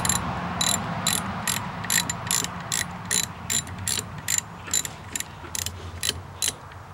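A socket wrench with an extension ratcheting while working on a 1953 Ford F100 with a Dodge rear end, giving quick bursts of crisp, close clicking in a steady rhythm with short pauses between strokes.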